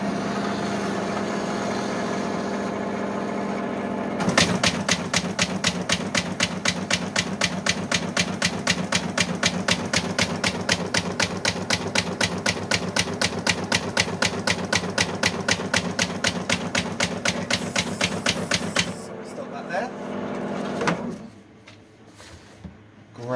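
A paper folding machine cross-folds A4 sheets with a rapid, even, mechanical clatter that runs steadily for about fifteen seconds after a short hum. It then stops, leaving quieter handling noises.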